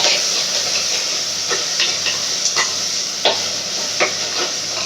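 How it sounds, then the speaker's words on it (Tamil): Prawns frying with pepper in a pan, a steady bright sizzle with occasional sharp scrapes and stirring clicks close by. "மிளகு போட்டு ஃப்ரை பண்ணிக்கலாம்."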